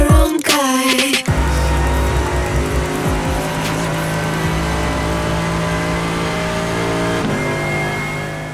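In a racing simulator, a race car engine revs sharply at the start, then holds a loud, steady drone with tire squeal and skidding layered over it, with no talking.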